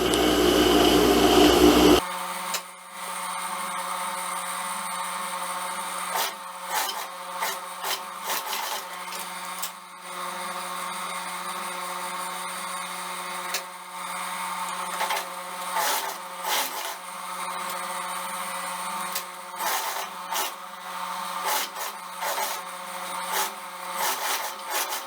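A sewing machine stitches a reinforcing seam along the crotch of a pantacourt jumpsuit, running in close, steady mechanical bursts with brief pauses between runs.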